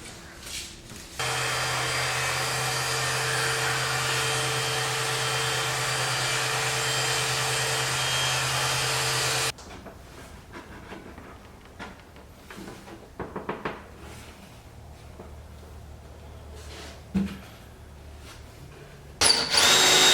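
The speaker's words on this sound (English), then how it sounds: "I'm just going to freehand cut it with this circular saw" A circular saw runs freehand through a pre-finished cabinet board, giving a loud, steady whine for about eight seconds before it stops abruptly. Quieter handling knocks and clatter follow.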